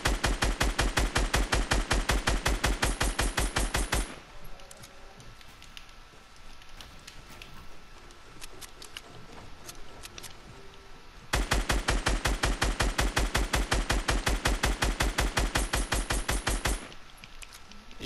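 Video game gunfire: two long, loud automatic bursts of rapid, evenly spaced shots, separated by a stretch of quieter background noise with a few scattered distant shots.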